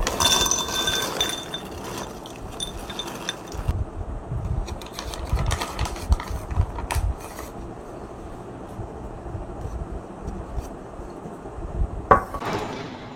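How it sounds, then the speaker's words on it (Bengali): Cashew nuts poured into a container, giving a close run of rattling, clinking patter for several seconds before it settles into quieter handling noise and a brief late clatter. "এই কৌটোটার মধ্যে ঢেলে রাখি।"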